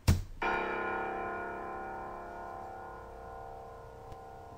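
A single note struck on a Steinway C1 grand piano rings out loud and close after a brief thump, its rich overtones sustaining and slowly decaying over several seconds with no voices.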